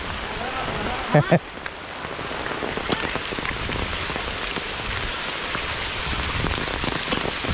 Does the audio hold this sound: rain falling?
yes